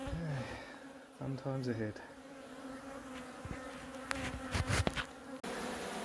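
Bees buzz densely around an open hive during a messy beehive relocation, a constant droning swarm heard close up while a person talks over it.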